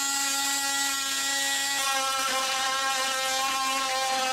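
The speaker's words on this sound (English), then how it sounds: "This is a narrower blade on the oscillating tool, and it works just perfect for cutting away the core in between where I've cut it loose from the fiberglass." An oscillating multi-tool fitted with a narrow blade cuts away honeycomb core bonded to fiberglass, giving a steady, loud, high-pitched buzzing whine that holds evenly throughout with no talk.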